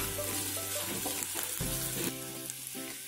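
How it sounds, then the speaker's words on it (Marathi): Onion with ginger-garlic paste fries in a pan, sizzling loudly and continuously with a few stirring scrapes and clinks mixed in. "कांदा आपला शिजत आलाय"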